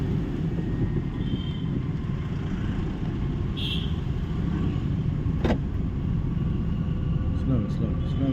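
A car at a driving school runs in second gear, a steady low engine and road rumble with wind buffeting the microphone and a voice faintly underneath.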